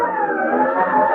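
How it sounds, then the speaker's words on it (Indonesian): A motorized disinfectant spraying machine makes its rounds through a residential housing complex, giving off a steady, whining, siren-like drone that stays loud and unbroken for a brief moment. "Itu mesin penyemprot desinfektan lagi keliling ke komplek."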